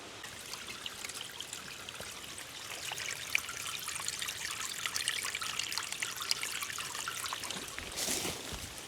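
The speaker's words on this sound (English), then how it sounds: "there's natural springs everywhere going through here" Natural spring water trickles steadily along a hiking trail on Haystack Mountain in New York's Adirondack Park, a continuous close, soft babbling flow with no voices.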